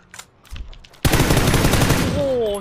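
PUBG gunfire starts with a few scattered shots, then a sudden loud burst of rapid automatic fire runs to the end of the clip, and a faint voice sounds during the opening shots.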